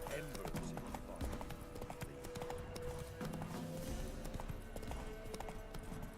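Roach, a horse in The Witcher 3, gallops with a steady rhythmic clip-clop of hooves that runs throughout, mixed with game sounds and a person talking over it.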